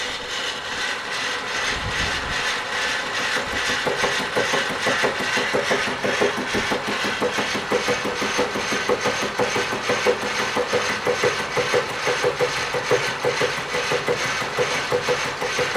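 A machine cuts a solid stainless steel 304 billet at a one-millimetre depth of cut, making a steady, rhythmic scraping and grinding that holds at a constant level throughout.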